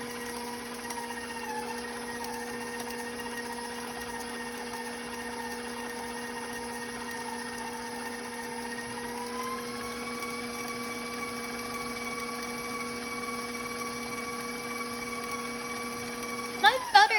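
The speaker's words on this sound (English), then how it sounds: "I'm going to mix this for about 3 minutes until it becomes light in color and fluffy." An electric hand or stand mixer beats butter and batter for chocolate chunk raspberry crumb muffins, a steady continuous motor whine with stable pitch that shifts slightly partway through, ending with a few clattering knocks.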